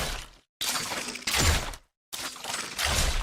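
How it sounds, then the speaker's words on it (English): Orianna's base auto attacks in League of Legends come as three crisp, metallic bursts, each a short whirring clank and shattering impact, separated by brief silences. "Orianna's base auto attacks sound like this."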